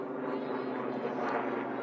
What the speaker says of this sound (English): Hear the old helicopter over our heads here.